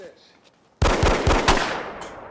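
A burst of gunshots in the film Ghost Dog rings out after a quiet moment, several rapid loud cracks in quick succession with a lingering reverberant tail.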